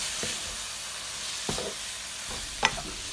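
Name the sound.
stirring holy basil into sizzling stir-fried minced pork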